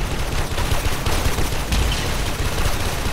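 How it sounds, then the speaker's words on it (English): Warframe gunfire roars in a dense, continuous burst of overlapping rapid shots, loud and close throughout, with no voices. "I'm getting shot in the back"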